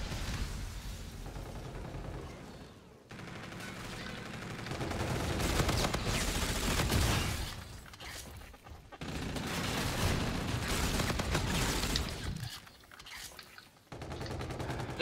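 Pistol fire in Call of Duty Infinite Warfare, the Oni pistol, crackling in dense bursts across the whole stretch with short gaps between volleys, loud and close, amid a busy game mix.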